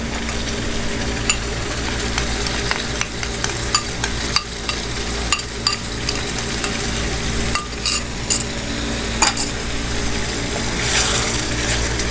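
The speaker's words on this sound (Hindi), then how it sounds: "हम सारे मसालों को अच्छे से फ्राई करेंगे।" Spices and green chili frying for a white chicken korma curry, a continuous close sizzle with repeated scraping of a spoon stirring in the pan, and no voices.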